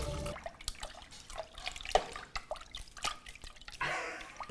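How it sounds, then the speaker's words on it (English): Eight cups of purified water poured from a container into a cooking pot for ramen, giving a splashy, gurgling run of liquid with drips and clatter, fairly close and without talk. "now we add 8 cups of purified water"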